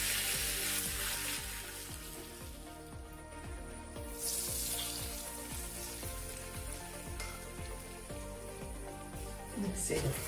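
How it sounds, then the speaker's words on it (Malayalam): Mustard seeds and curry leaves crackle and spit in hot oil for a bittergourd masala curry, giving a steady, dense sizzle with rapid pops, close and loud throughout. "ഇതിലേക്ക് കടുക് പൊട്ടിച്ചിടാം"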